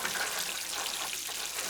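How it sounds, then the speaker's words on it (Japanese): Croutons sizzle steadily in a hot frying pan for a Caesar salad, a dense, close, even crackle with no talking. "一気に炒めます。"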